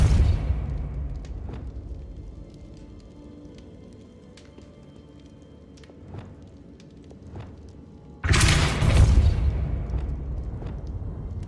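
A Depulso force spell cast in Hogwarts Legacy lands as a sudden loud burst of noise, after a quieter spell of scattered clicks and low rumble.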